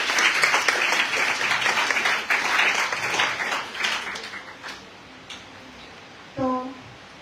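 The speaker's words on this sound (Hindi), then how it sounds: "तालियां होनी चाहिए।" Audience applause for the children competing in a Hindi poetry recitation contest, steady and fairly loud clapping that thins out and fades over several seconds before a short voiced sound near the end.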